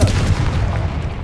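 Confringo blasting spell from Hogwarts Legacy going off as a heavy, booming burst with rumbling low-end, sustained through a short moment with no talk over it.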